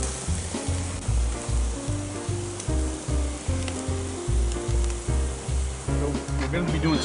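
Seasoned wild boar steaks sizzle in a hot pan, a loud, steady hiss layered over background music with a regular beat.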